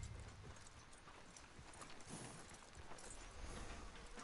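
Horse hooves clip-clop at a steady walking pace in the Red Dead Redemption 2 video game, soft and muffled under a wide outdoor wash of ambient noise.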